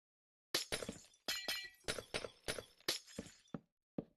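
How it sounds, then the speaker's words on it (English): Glass breaks repeatedly in the video game Minecraft: roughly nine sharp, crunchy shatters land in quick, uneven succession, loud and close, with no talk over them. "Noise of breaking glass in this game is very jarring."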